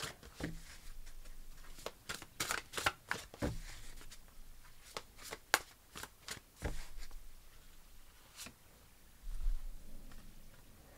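A deck of large oracle cards being shuffled by hand, with a series of crisp riffles and slaps in uneven bursts, close and fairly quiet, with no talking.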